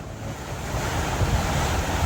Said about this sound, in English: the wind and swell that were forecasted hit us